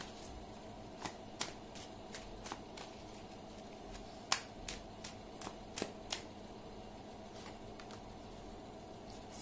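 Tarot cards handled during a love reading, with a series of soft, crisp card snaps and flicks spaced through a quiet room, one sharper snap standing out midway, no talking.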